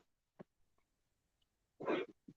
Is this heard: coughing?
yes